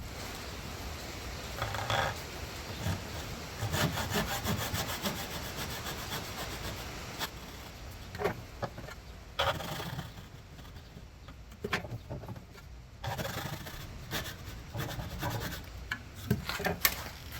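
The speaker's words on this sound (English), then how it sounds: "So I'm going to cut ridges so the glue can get out and we won't have compression and break something." A hand saw cuts ridges into a wooden dowel for a dining room chair repair, giving a rough, scratchy back-and-forth rasp in uneven bursts that is close and moderately loud, with short pauses between strokes.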